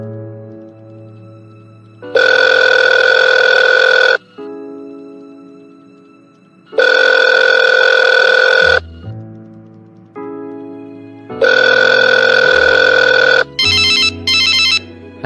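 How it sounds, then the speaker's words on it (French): An outgoing telephone call rings on the line in three long, loud, evenly spaced tones with quiet gaps, followed by a short run of faster beeps. "Appelle-le et passe-moi le téléphone."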